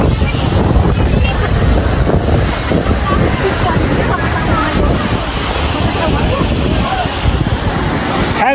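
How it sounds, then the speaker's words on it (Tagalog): Strong wind buffets the microphone in a continuous roar on a road trip in Dolores, Quezon, with surf-like rushing noise throughout and scattered voices underneath. "Malakas ang hangin."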